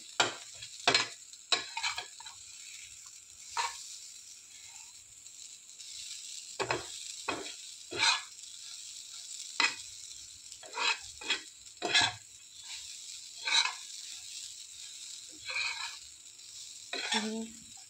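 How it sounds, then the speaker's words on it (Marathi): A spatula scrapes and stirs green chili and chickpea chutney as it dry-roasts in a pan, in quiet, irregular strokes separated by soft pauses, close by and with no voices. "हे बघा, छान खरपूस भाजून घ्यायचं."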